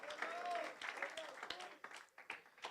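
Church congregation clapping for Jesus during a sermon, fairly quiet and thinning out, with a few voices calling out over it.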